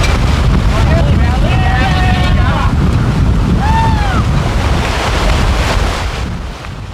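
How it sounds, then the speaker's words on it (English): Breaking waves and whitecaps on a stormy lake, a loud roaring wash of surf buffeted by heavy wind noise, with a voice talking faintly underneath before the roar eases slightly. "By now the lake was looking more like an ocean with breaking waves and whitecaps."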